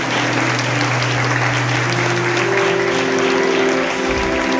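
A large church congregation at a youth congress applauds loudly and continuously, a dense wash of clapping hands with sustained organ or keyboard tones held underneath.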